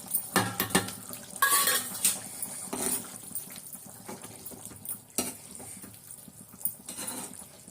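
Pirandai (adamant creeper) added to a pot of boiling kuzhambu, heard as clattering of a utensil against the pot with irregular knocks and scrapes, close by, with no voices.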